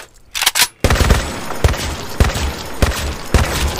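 An MG40 machine gun in the Minecraft Decimation mod fires: a couple of quick shots, then a loud, sustained rapid burst of close gunfire with a heavier thud every half second or so, no talking.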